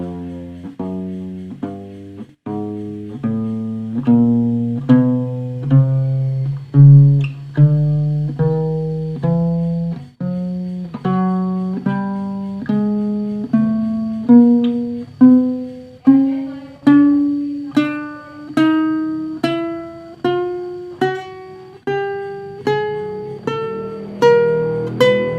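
Single notes picked one after another up the first string of a guitar, climbing steadily in pitch and ending on F, about a score of evenly spaced plucks ringing out alone and close.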